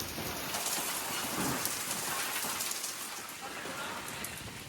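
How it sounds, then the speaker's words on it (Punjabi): A heavy monsoon-style downpour in Punjab makes a constant, loud hiss of rain drumming on surfaces, steady throughout and close by. "ਰਾਮਪਰੇ ਵੱਲ ਤਾਂ ਮੀਂਹ ਫੁੱਲ ਹੀ ਪਈ ਜਾਂਦਾ ਹੁਣ"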